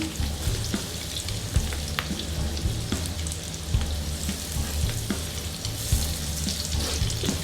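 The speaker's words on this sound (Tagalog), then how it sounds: "Tapos ngayon lagyan natin yung bawang." Garlic sizzles and fries steadily in hot oil that has taken on fish flavour, a dense close crackle with occasional louder pops and no talking.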